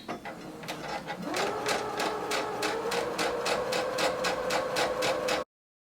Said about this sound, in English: Begin sewing and back stitch. And keep sewing until you get to the end of the waistband.